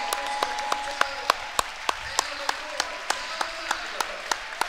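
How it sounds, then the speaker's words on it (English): A crowd applauding in a school gym during a boys basketball game, steady clapping with sharp rhythmic claps standing out, while an announcer talks over it. "A round of applause from the crowd"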